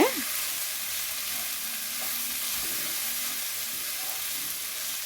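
Vegetables, including red peppers, sautéing in a pan for rava khara bath, a loud, continuous close sizzle with steady hissing throughout and a brief utensil scrape at the start.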